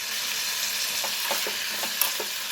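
Fresh coriander being roasted in a pan for chutney, giving a soft continuous frying hiss with a few light stirring scrapes and one sharp clink near the end, without speech.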